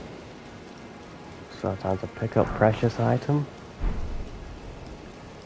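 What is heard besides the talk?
rain in the video game Elden Ring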